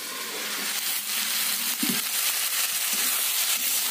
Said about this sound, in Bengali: দেখুন মাংসে নুন দেয়নি তাই মাংসটা কত সুন্দর কষানো যাচ্ছে